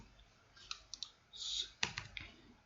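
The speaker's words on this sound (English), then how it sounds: "typing sudo" Keystrokes on a computer keyboard while setting up a Raspberry Pi OLED mini tower case, a few scattered clicks followed by a brief burst of close, quiet typing.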